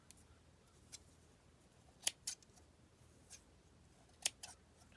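Scissors snipping fabric scraps into small pieces, a few quiet, crisp, isolated cuts spaced irregularly against a near-silent room.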